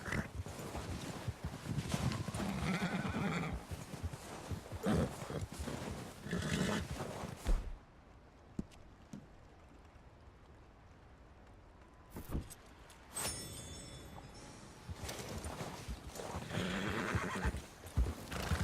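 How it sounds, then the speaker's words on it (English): A white Arabian horse being broken in the Red Dead Redemption 2 video game: loud neighing and whinnying with hoof clatter, then a quieter stretch before the horse's noises and hoofbeats return. "Breaking the horse is easier if you hold back on both sticks."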